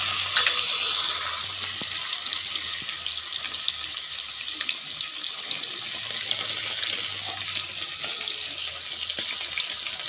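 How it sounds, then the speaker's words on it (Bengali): Hot oil sizzles and crackles steadily as koi fish fry in a wok, a bright spattering hiss with occasional sharper pops, close by and fairly quiet. "তেল গরম হয়ে গেছে, মাছগুলো দিয়ে দিচ্ছি।"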